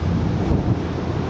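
Strong wind in Macau buffets the microphone in a steady low roar, with no voices.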